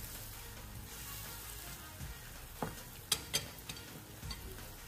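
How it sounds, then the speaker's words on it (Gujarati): A spinach sabzi mixture is stirred in a pan over a faint low sizzle, with a few soft spoon clicks and scrapes near the end. "કરી નાખશું બધું મિક્સ."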